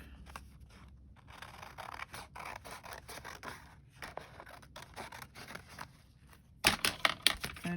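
Paper cut with scissors for a junk journal page, a run of crisp snipping and rustling close up, getting louder and sharper in the final second.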